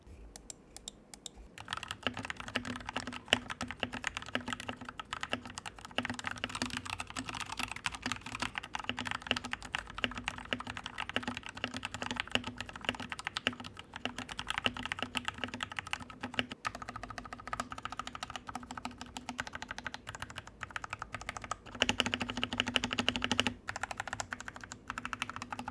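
Typing on an RK G68 mechanical keyboard with some rattle, a continuous stream of close, clicky keystrokes at a steady pace with brief pauses.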